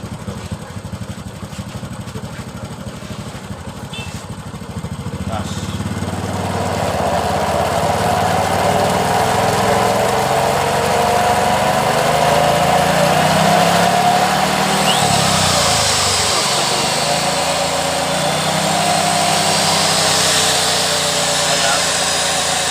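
A diesel engine spinning an electric dynamo generator revs up after a few seconds of lower rumble, then drones loudly with shifting pitch and a brief dip. Some talk is mixed in.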